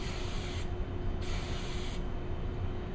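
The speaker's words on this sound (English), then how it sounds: "This is installed by doing a spray of oil right along the pleat." Aerosol can spraying thin oil along the pleats of a K&N air filter, two short, quiet hissing bursts separated by a brief gap over low background noise.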